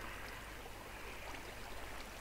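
A waterfall in a video game, a continuous broadband rush of falling water, steady and even in level, with no voices over it.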